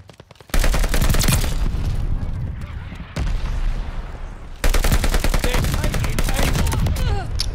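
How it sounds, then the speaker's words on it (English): Friendly mortar fire in a Call of Duty Vanguard domination match, with a dense, loud barrage of booming blasts and rapid gunfire that cuts out briefly and then resumes, and voices speaking under the battle noise. "Friendly mortar fire coming."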